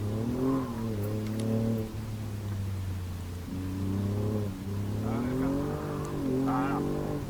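Alfa Romeo Giulia Quadrifoglio, the 510 hp version, revving hard through tight corners in manual mode, its engine pitch climbing and falling repeatedly as gears change, loud and close with no talk.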